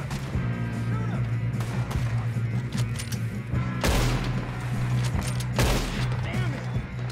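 Gunfire from a firefight in Red Dead Redemption 2, with sharp shots and louder booming bursts near four and six seconds over a dense, constant backdrop of game sound, while voices shout briefly.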